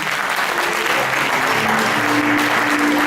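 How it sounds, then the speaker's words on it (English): A packed audience applauds warmly as a man walks up onto a stage, a steady, dense wash of clapping that stays loud and even throughout, with a faint held tone running underneath. "a warm round of applause as he comes up on the stage."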